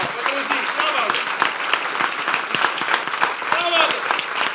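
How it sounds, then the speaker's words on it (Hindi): Dense, loud applause fills a church during a Pentecost sermon, with someone speaking energetically over the clapping. "मैं कहता हूं पतरस के लिए जोरदार तालियां बजाते हैं भाई"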